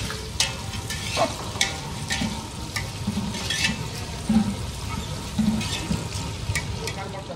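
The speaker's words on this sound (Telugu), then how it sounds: "ఇవైతే బాగా చక్కగా బ్రౌన్ కలర్ వచ్చే వరకు అయితే వేయించుకుందామండి" Onion and green chillies frying in a pan give a steady, close sizzle, with stirring scrapes and small clinks recurring throughout and no voices.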